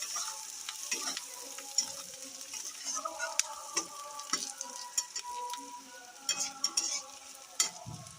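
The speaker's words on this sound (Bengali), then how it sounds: "পেঁয়াজ দিয়েছি, পেঁয়াজটা ভাজা হচ্ছে।" Onion frying in a pan on a home stove, with a steady sizzle and occasional stirring scrapes, close and moderately loud, no talking.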